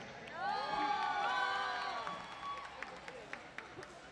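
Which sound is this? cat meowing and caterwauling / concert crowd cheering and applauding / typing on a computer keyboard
concert crowd cheering and applauding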